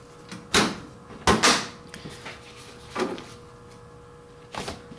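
Metal cabinet door on a restored Hallicrafters BC-610-E WWII AM transmitter opening, with several separate clunks and rattles at a moderate level and quiet gaps between them, nearby.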